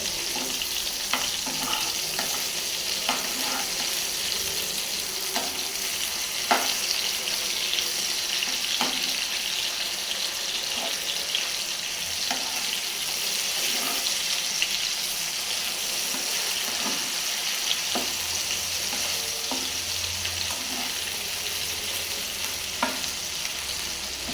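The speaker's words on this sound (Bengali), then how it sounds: "আজকে মাছ ভাজি করে তারপরে খাবো" Fish frying in a pan in a home kitchen at night, a steady close sizzle with stirring clatter and brief bursts of tap water running, no voices.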